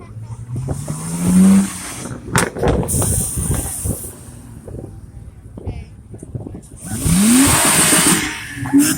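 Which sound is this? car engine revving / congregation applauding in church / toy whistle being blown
car engine revving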